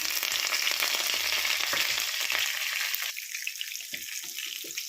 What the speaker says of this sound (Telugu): ఇవి వేసి పోపులు వేస్తున్నాం కరివేపాకు వెల్లుల్లి కూడా వేస్తున్నాం